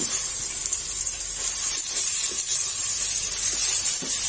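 Ready-made nam ngiao chili paste hits hot oil and sizzles with a steady, close, loud hiss that holds for the whole stretch, with no voices over it.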